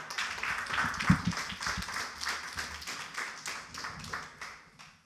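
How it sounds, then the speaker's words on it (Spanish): Applause from a church audience for Salvatore, a dense wash of clapping lasting a few seconds at moderate level, slowly thinning toward the end. "Un aplauso para Salvatore."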